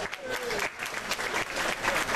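An audience aboard a Royal Caribbean cruise ship, Brilliance of the Seas, breaks into a dense burst of clapping that fills the room, moderately loud and sustained for a couple of seconds.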